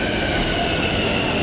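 A metro train rumbles at a platform in Hyderabad, a steady, loud wash of rail and carriage noise with a hiss and no clear breaks.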